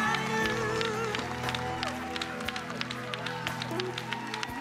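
An audience claps through a key-to-the-city presentation ceremony in North Miami Beach, honoring a bishop, with steady crowd applause layered over background music and voices throughout.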